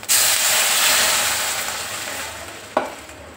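Buttermilk simmers in a pan for a fasting-style green chili curry made without garlic, giving a steady close hiss and bubbling sizzle that slowly softens, with one brief knock near the end.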